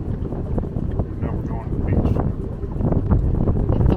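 Steady wind gusting and buffeting around a boat on Lake Michigan after the wind shifts out of the north, a loud continuous rumble with microphone wind noise throughout.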